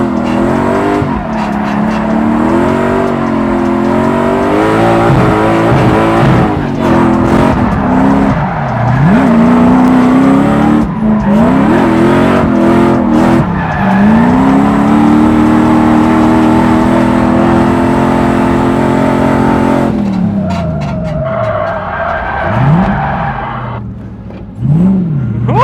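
A supercharged 1UZ drift truck roars hard through a drift, its engine rising and falling in wild revs while the tires squeal continuously, loud and close.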